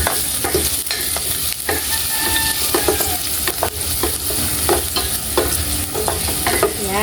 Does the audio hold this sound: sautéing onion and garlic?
yes